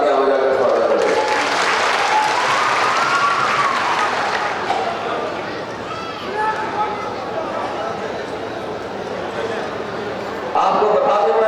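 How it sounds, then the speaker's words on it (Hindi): A large crowd at a political rally claps loudly and continuously in welcome, a dense roar of applause filling the space for over ten seconds, with voices and cheering mixed in and a brief surge near the end. "मैं आपको दिल से जोरदार से तालियां बजाकर स्वागत करता हूं।"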